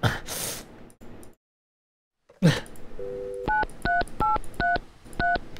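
In the video game Mon Bazou, a telephone is dialed: a brief tone, then a quick sequence of six clear keypad beeps in steady rhythm, preceded by heavy breathing and gasps.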